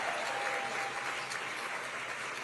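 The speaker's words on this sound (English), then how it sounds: "Let's give them all a big round of applause." Large banquet-hall audience applauding at a gala in San Francisco, a thick, steady wash of clapping heard from a distance without pause.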